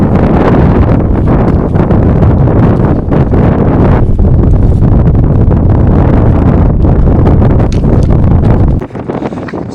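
Strong wind roars and buffets against the microphone almost the entire time on Kinder Scout in the Peak District, loud and rumbling, easing slightly only at the very end.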